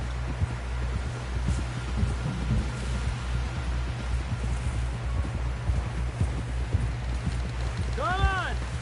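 Horse hooves clip-clop at a steady pace on a trail in Red Dead Redemption 2, heard under rain-like ambience and a low rumble, fairly faint, with a brief tonal sound near the end.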